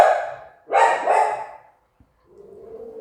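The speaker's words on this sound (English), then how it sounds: "with now my doggy barking" Pet dog barking indoors, two loud close barks in quick succession followed by a brief pause and a lower, fainter vocal trailing off.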